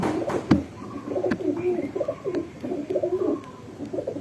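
A young pigeon coos in soft, low repeated phrases close by, with a sharp knock near the start and faint background noise.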